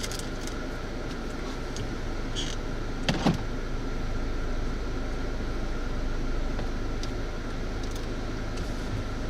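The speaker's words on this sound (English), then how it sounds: "I did turn the AC on because it is very warm in the car, so sorry if y'all hear a lot of wind noise." Steady broadband wind and air-conditioning hiss inside a warm car in Florida, continuous and moderately loud throughout, with a brief click or knock partway through and no talk.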